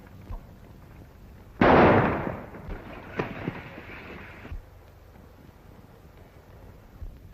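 A single gunshot from a 1935 western film cracks out loud and close, its blast trailing into a ringing, reverberant tail that fades over about three seconds, leaving low background hiss and a faint thump near the end.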